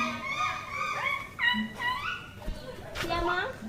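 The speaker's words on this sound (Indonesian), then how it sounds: "suara siamang." Siamang gibbons call from an enclosure at Ragunan zoo in the rain, a run of rising, whooping hoots that repeat in uneven bursts at moderate distance, with people talking nearby over the calls.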